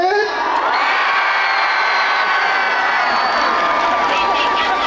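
An outdoor concert crowd at Daejeon Ppuri Park cheers on cue in the rain, a loud sustained roar of shrieks and shouts that holds steady throughout.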